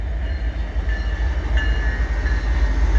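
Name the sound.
CP freight train passing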